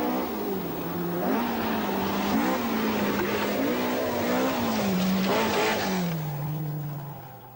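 A Talbot rally car on a 1980 rally stage drives past with a steady, strained engine note that rises and falls as it shifts, then fades slightly at the end.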